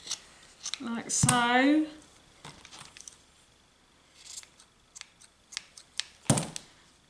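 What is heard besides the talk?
scissors trimming a Christmas gnome's beard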